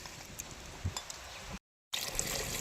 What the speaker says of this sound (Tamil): இப்போ மட்டனுக்கு தேவையான அளவு தண்ணி ஆட் பண்ணிக்கலாம்.